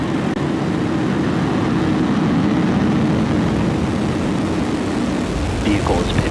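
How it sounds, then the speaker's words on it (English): A SpaceX Falcon 9 rocket ignites and lifts off on the Transporter 16 mission, a loud, steady low rumble roaring continuously throughout with a slight rise near the end and crowd voices faintly mixed in. "Ignition and liftoff, Falcon 9."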